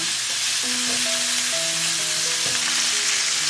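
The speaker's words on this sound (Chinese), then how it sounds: "下面也再煎一下。" Pork bones pan-frying in oil, a continuous even sizzle with faint tonal background notes and no voices.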